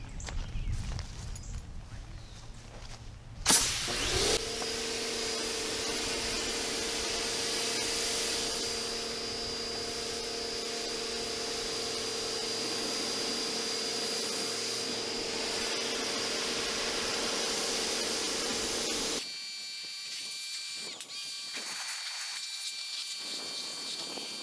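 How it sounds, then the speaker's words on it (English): Water spray rinses a car after a CarPro Reset shampoo wash, a steady broad hiss of the nozzle running for about fifteen seconds with a light whine underneath, ending abruptly, with some handling noise before and after. "let's go ahead and rinse it off"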